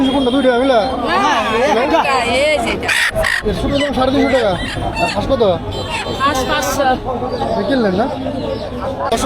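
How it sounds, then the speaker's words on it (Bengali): Busy outdoor bustle at a Bangladeshi village market where ducks and chickens are bought and sold, with bird calls and poultry clucking mixed into a crowd of chattering voices, loud and continuous. "হাটে ঢুকতে চোখে পড়লো রাস্তার পাশে হাঁস মুরগি কেনা বেচার ব্যস্ততা"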